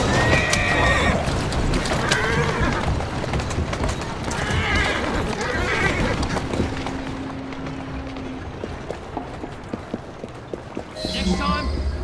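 A horse neighs and whinnies several times in the video game Assassin's Creed Syndicate, mixed with clip-clopping hooves and game ambience. A sharp, loud burst closes the clip.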